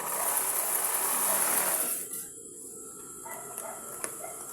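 A sewing machine stitches a gown's skirt in a fast continuous whir for about two seconds, then stops, leaving quiet room noise with a few faint clicks.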